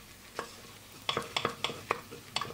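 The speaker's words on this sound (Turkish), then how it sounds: "Yaklaşık yarım yemek kaşığı kadar tereyağı, bir yemek kaşığı kadar unu ilave edelim ve kavuralım" Flour roasting in butter in a pan, stirred with a utensil: a series of sharp scraping clicks and taps, several in quick succession, over a faint low sizzle, close and fairly quiet.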